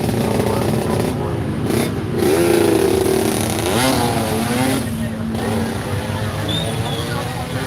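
A motorcycle engine running in a parking area, a loud, continuous idling rumble with slight revs rising and falling, close by, with voices and crowd noise mixed in.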